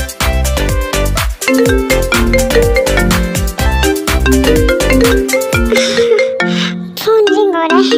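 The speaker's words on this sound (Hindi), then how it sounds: "फोन रिंग हो रहा है" A mobile phone ringtone plays a loud, bright, repeating electronic melody of plucked notes and bass for several seconds, then gives way to a voice speaking at the end.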